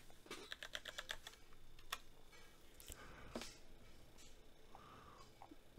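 A computer keyboard clatters in a quick burst of close keystrokes, then gives scattered single taps and a short pause. It is moderately loud in a quiet room with faint background hum.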